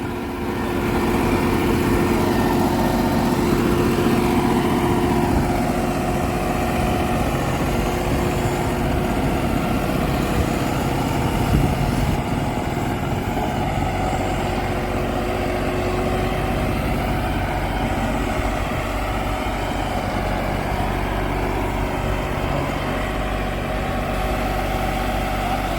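A New Holland 5620 CRDI tractor engine runs steadily for a long stretch, a deep, even diesel rumble close by, with no talking.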